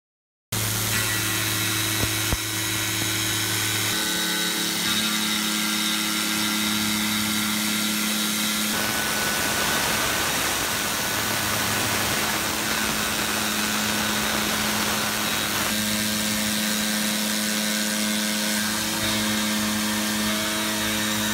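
A Tormach CNC mill drives a Shear Hog face mill cutter through a 40 thou deep cut, giving a steady loud machining drone with whining tonal bands that shift in pitch partway through. No one speaks over it.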